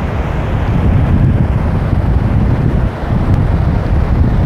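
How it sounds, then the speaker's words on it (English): Atlantic Ocean waves at the shore of a beach park, heard as a loud, steady roar of surf buffeted by heavy wind noise on the microphone, with no voices. "Let's get right down next to the waves."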